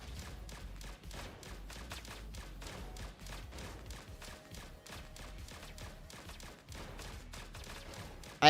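Rapid video game gunfire in Atari Recharged, a dense stream of quick, evenly spaced shots running steadily throughout at moderate loudness, with a sharp louder burst at the very end.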